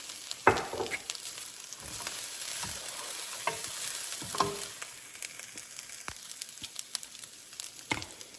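Lentils sauteing in a hot pan, a quiet steady sizzle broken by scattered crackles and a few sharp clicks of stirring, with no talk.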